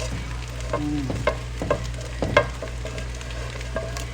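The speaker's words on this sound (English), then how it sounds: "We're gonna pour our sauce in the noodles." Alfredo sauce stirred into drained noodles in a pan, a soft continuous sizzle broken by several sharp scraping clicks of the utensil against the pan, close and alone.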